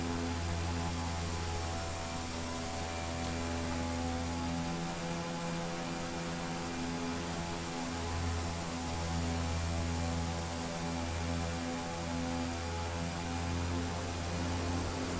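Carenado B1900D twin-turboprop airliner taxiing in the X-Plane 12 flight simulator, a steady droning engine hum with layered tonal whine that pulses slightly, continuous and close with no talking.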